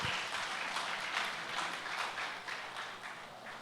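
A congregation at a church service applauds in praise to the Lord, a full, steady round of many hands clapping that carries on evenly and eases slightly toward the end, with faint rhythmic accents.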